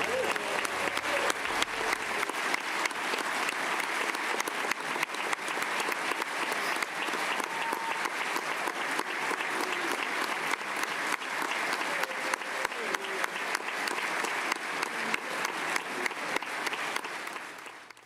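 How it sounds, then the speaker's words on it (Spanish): State legislators applaud a governor's speech at the opening of the Florida legislative session, sustained crowd clapping lasting well over fifteen seconds, moderately distant, with some crowd murmur underneath. "¿Quiénes aplauden?"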